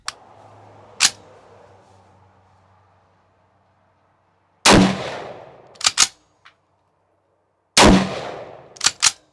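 A Troy SAR straight-pull AR rifle fired outdoors: loud, sharp single shots with ringing tails, followed by quick clacks of the straight-pull action being cycled between rounds.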